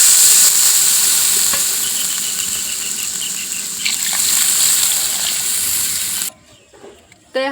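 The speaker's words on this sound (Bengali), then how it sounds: "তো এখন আমি ঝোল দিয়ে দিতেছি।" Broth poured into a pan of tilapia and papaya curry, a loud, steady sizzling rush of liquid meeting hot oil that cuts off abruptly near the end, leaving quiet clatter.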